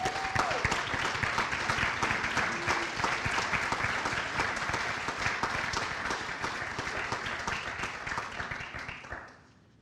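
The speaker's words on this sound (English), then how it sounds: "we should give him a round of applause also" Dense, sustained applause from an audience at a high school athletics hall of fame induction ceremony, steady and loud for nearly ten seconds before tapering off at the end.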